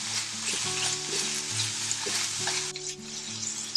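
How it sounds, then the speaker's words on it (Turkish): Spices and garlic being stirred into an eggplant filling in a hot pan, with continuous close sizzling and frying under repeated scraping strokes of a utensil and no talk. "ve karıştırıyorum"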